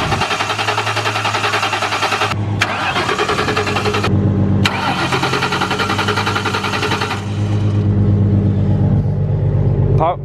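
A car engine cranking and catching while being jump-started from another car, with the starter grinding in bursts and breaking off before the engine settles into a loud, steady run, close by.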